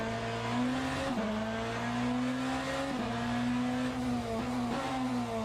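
BMW Hypercar V6 engine in the racing game Le Mans Ultimate, a sustained high-revving buzzing drone with brief dips at gear shifts, loud and continuous without speech.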